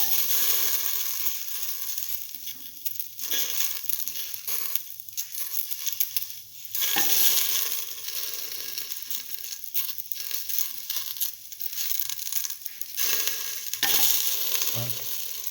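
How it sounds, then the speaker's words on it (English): Okra pieces fry and sizzle in a pan while being stirred, a steady crackling hiss with intermittent scraping and shuffling from the stirring, close and continuous throughout, with no talking. "Now put in the okra pieces."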